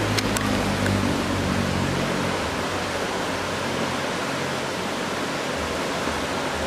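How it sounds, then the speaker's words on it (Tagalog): Water rushes continuously in a steady broadband roar, like a river flowing nearby, with no voices and a few faint clicks at the start. "yung sound ng tubig, yung agos niya."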